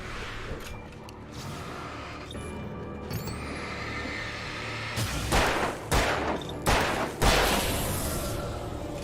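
Gunfire in the video game Alan Wake Remastered, a run of about four loud shots in quick succession near the end, rising out of a dense, rumbling game soundscape with no speech.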